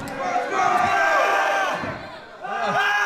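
A wrestling crowd at a GIPW independent show roars and cheers in a sustained, loud wash of voices, with shouted cries rising through it, dipping briefly before swelling again.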